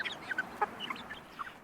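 Backyard chickens kept in a country garden cluck softly in short, scattered calls, faint and somewhat distant against a low background hiss, with no speech.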